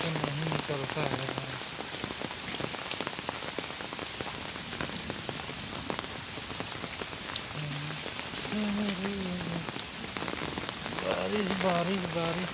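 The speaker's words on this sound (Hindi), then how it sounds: "बारिश बारिश बारिश बारिश कितना बारिश हो रहा है।" Heavy rain pours in a village home courtyard, a dense, constant hiss of drops on surfaces close by, with a voice speaking briefly at moments under the downpour.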